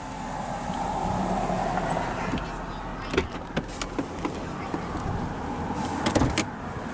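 The driver's electric window motor of a 2017 Jeep Grand Cherokee Summit whirs steadily as the glass lowers, followed by a series of sharp clicks and knocks.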